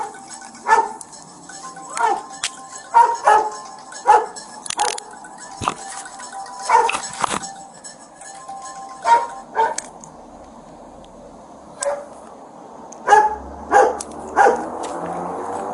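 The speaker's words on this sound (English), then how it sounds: "If you move, there's a canine in my car. You're gonna get dog bit." A police dog inside a patrol car barks in sharp, repeated bursts of one to three barks, loud and close, with an officer shouting commands in between.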